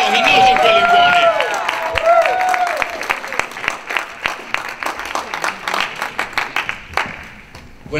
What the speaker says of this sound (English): Come on, clap, clap, clap, so he knows he really won it.